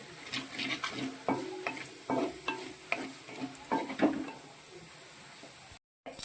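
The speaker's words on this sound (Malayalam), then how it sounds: "കട്ടക്കായം ആയതുകൊണ്ടാണ് ഇപ്പോൾ എണ്ണയുടെ അകത്തോട്ട് ഇട്ടത്" A lump of asafoetida sizzles in hot oil while making a kakka (clam) pickle, with a steady frying hiss broken by repeated scrapes and clinks of stirring in the pan, up close and with no talk.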